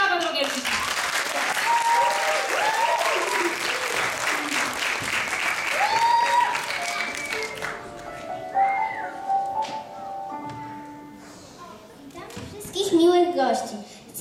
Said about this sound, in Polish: Ogromnie brawa, drogie dzieci!